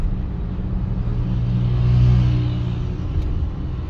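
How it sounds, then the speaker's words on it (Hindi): A Toyota Revo Hilux pickup drives along a road, its engine a steady low rumble heard from inside the cabin, swelling briefly midway as it accelerates, with no voices. "कमाल ड्राइव जी टोयोटा रीवो की, माशाल्लाह बहुत ही अच्छी ड्राइव है जी टोयोटा रीवो की।"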